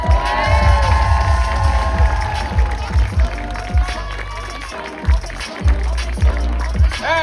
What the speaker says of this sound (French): Est-ce qu'on peut les applaudir bien fort, s'il vous plaît?